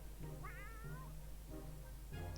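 A cat in a video game meows several times, clear rising and falling cries spaced across a couple of seconds, close and distinct over a low background hum.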